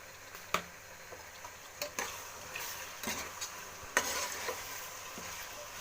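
Spices frying in a pan with turmeric and salt just added, giving a steady soft sizzle with a few sharp ticks and scrapes of stirring, fairly quiet and with no talking.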